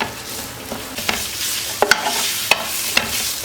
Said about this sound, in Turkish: Güzelce kıymamı kavurayım